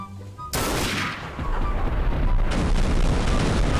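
A bomb explosion in Garry's Mod bursts in with a sudden loud blast, followed by a long rumbling roar of debris and a second surge of booming noise.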